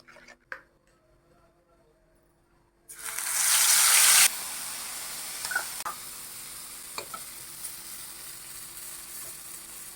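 Paneer bajji dropped into hot oil, a near-silent start that bursts into a loud hissing sizzle after about three seconds, then settles into steady bubbling frying with occasional pops.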